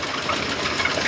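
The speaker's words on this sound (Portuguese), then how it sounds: "Pulando cilindro." Volkswagen Gol car engine running rough with a misfire, skipping a cylinder, giving a steady uneven knocking rumble throughout, close and fairly loud with no talk over it.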